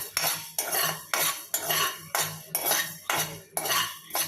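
Coriander seeds dry-roasting in a pan, stirred with a metal spoon in steady scraping strokes about twice a second, a rattling sweep of seeds and metal repeating evenly, close and alone.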